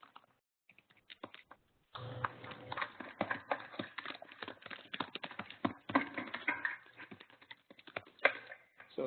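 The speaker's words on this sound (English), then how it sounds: "somebody unmuted and is typing" Someone types on a computer keyboard over an unmuted online meeting line, quick irregular clicking bursts close to the microphone after a short quiet start.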